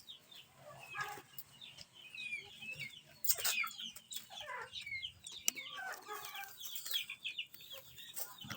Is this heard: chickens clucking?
yes